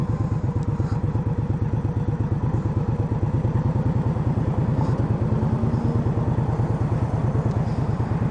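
A 2015 Indian Scout motorcycle engine on a test ride, a loud, steady, rapid throbbing that stays even throughout, heard close with no voices.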